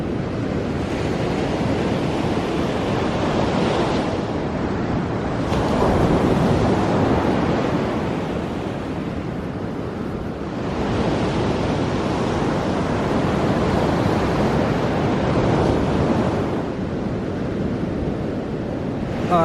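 Ocean waves breaking on a shore, heard from the coast: continuous loud surf roar that swells and eases in slow surges over about twenty seconds, mixed with wind noise and no voices.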